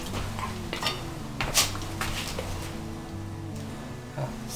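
Marinated mutton pieces are spread evenly in a dish, with light clinks and scrapes of a utensil against the dish, a few sharper knocks standing out over a steady musical background.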